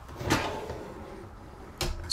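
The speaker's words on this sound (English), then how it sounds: "When we pull the drawers out," RV kitchen drawers in a 2021 Cedar Creek 388RK fifth wheel, two soft sliding thumps about a second and a half apart, close by in a quiet room.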